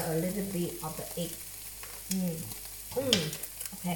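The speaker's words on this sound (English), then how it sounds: "I like the sound of the sizzling." An oyster omelette sizzles and crackles steadily in a hot frying pan while a person talks over it.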